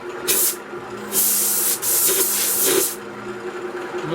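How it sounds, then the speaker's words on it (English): Three bursts of spray adhesive from an aerosol can hiss close by, each a second or so long with short pauses between, over a faint background hum, in a woodturning workshop. "I'm just using a spray adhesive."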